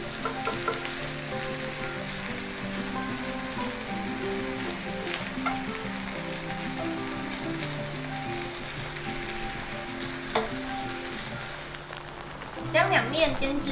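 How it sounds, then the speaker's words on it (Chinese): A vegan Korean pancake sizzles in a frying pan, a steady close crackling hiss throughout with soft background music and a few utensil clatters near the end. "将两面煎至金黄即可起锅。"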